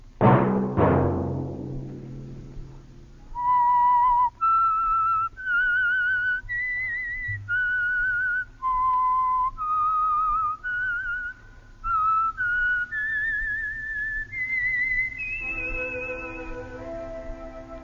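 The theme of old-time radio mystery show The Whistler: a loud opening chord gives way to a clear, melodic whistled tune, phrased in short held notes that rise and fall over a soft musical backing.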